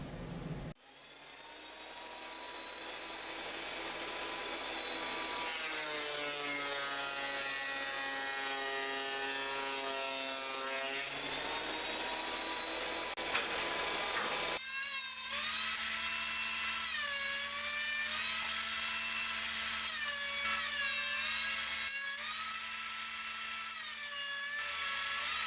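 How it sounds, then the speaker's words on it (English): A router or shaper mills V tongue-and-groove profiles into wooden paneling boards, a loud continuous high whine that shifts pitch as each piece feeds through, with a louder, harsher cutting passage in the second half. "I'll be taking all these pieces and I'll be milling that V tongue and groove."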